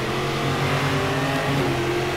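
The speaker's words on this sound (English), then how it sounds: "Ooh, cool downshifting sound" A stock car in the racing game StockCar 2013 downshifts, its engine note stepping through shifting tones as the revs change, loud and steady with no talk over it.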